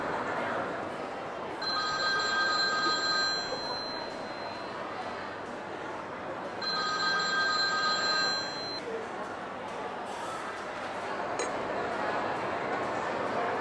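A telephone bell rings in two clear bursts, each about two seconds long and separated by a pause, left unanswered in a quiet room with faint background noise.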